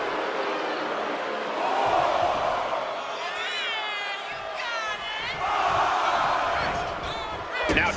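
Wrestling arena crowd in WWE 2K25 during a women's match roars and cheers in swelling waves, with whoops and chant-like tones over constant crowd noise.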